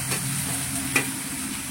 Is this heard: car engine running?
no